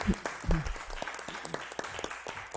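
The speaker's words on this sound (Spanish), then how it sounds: "Pues vamos a darle un aplauso a Luis Alejandro." An audience at a documentary screening about prison life claps for Luis Alejandro, with scattered, uneven claps thinning out after the first second.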